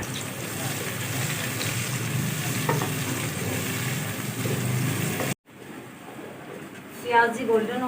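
Onions fry in a pan with a loud, continuous sizzle and stirring scrapes, then the frying cuts out abruptly and a voice speaks over fainter background noise.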